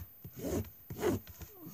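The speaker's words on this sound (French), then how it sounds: "je vais aussi enlever le scotch double face" Double-sided tape is peeled off jute fabric in two short, raspy pulls, close by and fairly quiet, with soft handling noises between them.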